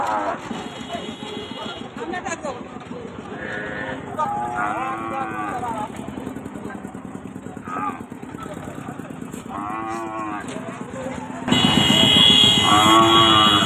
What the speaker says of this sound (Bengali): গাড়ির ভিতরে গরুর গলা ছাড়া সেই ডাকও শোনা যাচ্ছে